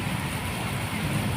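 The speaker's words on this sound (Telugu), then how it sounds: "వర్షం చూడండి అలా పడుతుంది." Rain falls steadily in a village during a thunderstorm, a dense even hiss of drops on surfaces, continuous and fairly close throughout, with no voices.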